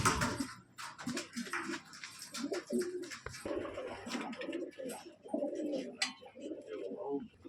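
Pigeons kept for breeding give repeated low coos in short bursts close by, mixed with wing flutters and small handling noises and scratches, with faint chirps between them.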